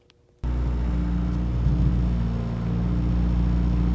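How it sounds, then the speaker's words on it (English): A Chevrolet Cobalt SS with a new battery catches and starts after silence, then settles into a loud, steady engine rumble with a slight swell as gas is given, close up and without talk. "That's me giving it gas"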